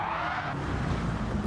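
A car skids off the track into gravel in a muscle-car racing video game, with a steady engine roar and gritty tire scrub that lasts the whole moment. No talking.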